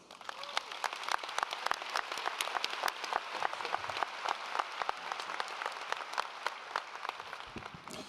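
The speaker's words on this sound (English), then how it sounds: "Thank you so much for that lukewarm applause" A sizable audience claps at a university commencement ceremony as the speaker is welcomed, with dense, crackling applause marked by sharp individual claps standing out, sustained at moderate volume throughout.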